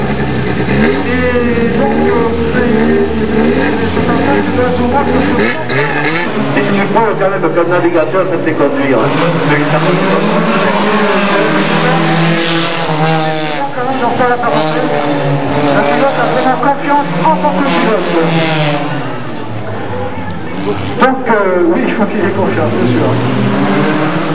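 Race car at 1991 car chases in Villeneuve-sur-Lot, a loud engine revving and shifting with rising and falling pitch throughout, with a voice talking over it.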